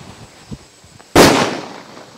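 A Lakshmi firecracker goes off during a Diwali celebration in a village, one sharp, loud bang that decays quickly, preceded by faint quiet background sounds.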